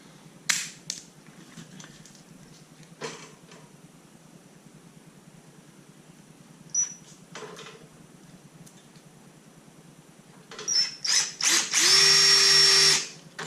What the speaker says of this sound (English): Just gonna mark that with a drill.